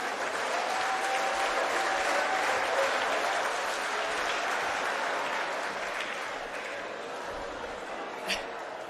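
An audience at an agricultural prestige awards ceremony in the Western Cape applauds in a sustained wash of clapping that tapers slightly, with a speaker's voice faintly underneath and a single sharp knock near the end.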